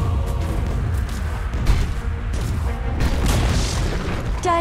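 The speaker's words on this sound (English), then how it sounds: "Dire's middle tower has fallen." Muffled booms and battle clatter in Dota 2 as a tower is brought down, a steady mid-level rumble of impacts and effects with a sharp click at the very end.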